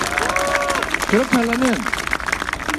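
Audience applause at a political speech, a steady wash of crowd clapping that runs the whole way through while someone speaks over it.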